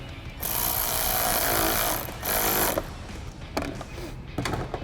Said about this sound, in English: We can grab our ratchet and 8mm socket and tighten that down.